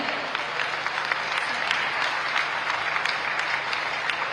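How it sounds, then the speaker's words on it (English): An audience at a festival closing ceremony in Goa gives a big round of applause for a leader, a thick, sustained roar of clapping with a faint steady hum beneath it. "Can we have a huge round of applause for him?"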